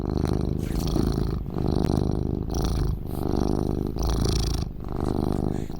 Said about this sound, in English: I hear the purrs of Happy Cat Lady